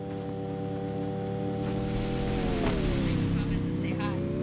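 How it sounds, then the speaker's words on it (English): Cars driving in the video game Free Fire, a steady engine hum with layered tonal whine that dips in pitch midway, heard up close and continuous without speech. "I don't like the sound of the cars."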